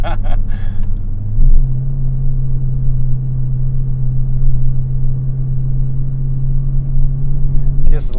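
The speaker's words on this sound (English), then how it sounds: "just love the exhaust on this thing. It just sounds so good." Bagged, supercharged Dodge Magnum SRT-8 exhaust heard from inside at steady speed: a loud, low, constant drone that holds one pitch for several seconds, with brief noisy bursts at the start and end.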